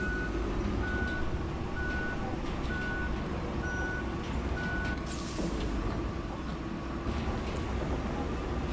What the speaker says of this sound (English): Oh, I hear another truck.